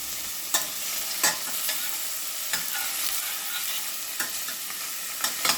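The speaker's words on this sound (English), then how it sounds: "I'm going to add in my jalapenos and my onions. Get this a good stir." Jalapenos and onions sizzle loudly in olive oil, a steady close hiss broken by sharp spoon scrapes and clacks as they are stirred every second or so.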